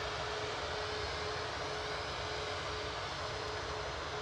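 A Boeing 737 MAX 8 departing Manchester Airport for Dublin produces a steady, dense engine roar with a faint continuous tone running through it, constant in loudness across the short stretch.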